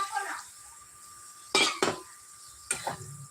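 A utensil stirs chhana (fresh cheese) curry in a pan, making a few brief, sharp knocks and scrapes against the metal, separated by quiet stretches.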